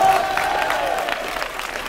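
A crowd applauds steadily at a Super Smash Bros. Ultimate French championship match, a dense wash of clapping hands at moderate distance, with faint voices mixed in.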